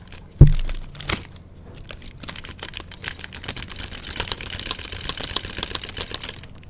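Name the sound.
car keys jingling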